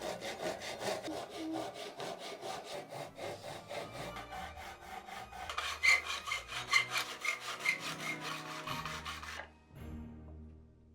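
Hand saw cutting through a glued-shut wooden treasure chest box to open the lid, steady rhythmic rasping strokes that speed up near the end before stopping abruptly.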